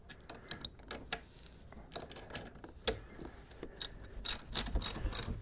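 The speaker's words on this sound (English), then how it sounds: "Once you get her up in there, take your ratchet." A ratchet tightens bolts on a Harley-Davidson Low Rider ST motorcycle fork during a Bitubo cartridge kit upgrade, giving close bursts of quick mechanical clicks with short pauses, ending in a louder flurry of ratcheting.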